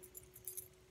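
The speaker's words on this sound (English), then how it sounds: "So to start, I have my keys." Keys jingle and clink inside a Gucci Soho Disco bag, a few soft metallic rattles over one second, quiet and close, with no voices.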